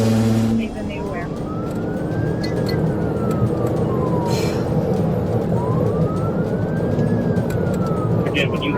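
Wailing police sirens rise and fall in long sweeps over the steady roar of cars racing at high speed during a chase, with the sirens fairly loud and a voice talking briefly at the start.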